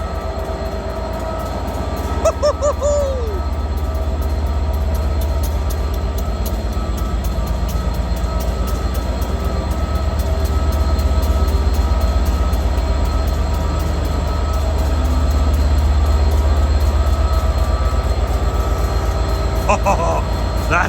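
A Class 67 diesel locomotive rumbles past at a station with a steady, heavy engine drone, a short squeal near the start and more metallic squeaks toward the end.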